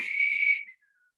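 A single sustained whistled tone imitating a knife sharpener's whistle, clear and close, holding steady for about half a second before trailing off into a faint fading note.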